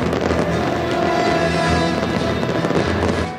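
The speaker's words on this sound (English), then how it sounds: "A fireworks spectacular heralded the opening of the Burj Khalifa" Fireworks bursting over the Burj Khalifa, the 828-metre Dubai tower, at its opening celebration: a dense, continuous crackling roar of distant explosions with no voices.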